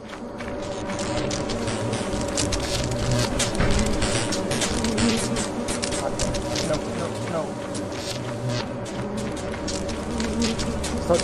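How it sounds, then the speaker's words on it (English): Bees buzzing in the video game Lethal Company, a dense continuous droning hum that holds steady and fairly loud throughout, with talk in the background. "Fucking bees!"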